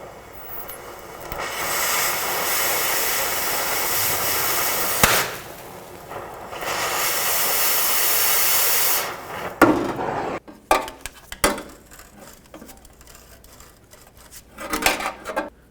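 An oxy torch cuts a seized exhaust manifold mounting nut on a 2005-2010 Pontiac G6: two long stretches of loud, steady roaring hiss, followed by scattered close metallic clanks and taps.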